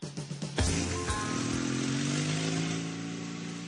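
A motorcycle engine starts after a few sputtering turns, then settles into a steady, loud, close idle rumble that holds throughout with no talking.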